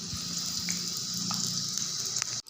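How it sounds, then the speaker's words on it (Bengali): Potatoes frying in hot oil for a Bengali egg curry, a steady close sizzle and crackle running without pause before cutting off abruptly at the end. "তো আলুটাকে আমি ভাজতে দিয়েছি।"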